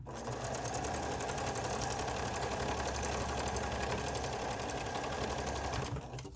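A sewing machine stitches a blue fabric mask in a steady, close mechanical whir that runs continuously for several seconds before stopping near the end.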